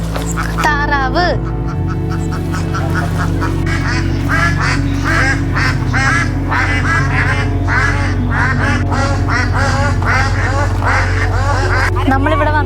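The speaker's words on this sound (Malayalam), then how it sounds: "താറാവ്" A flock of ducks quacks loudly and repeatedly at close range near the Malarikkal water lily fields, making a dense, overlapping series of nasal calls that runs throughout.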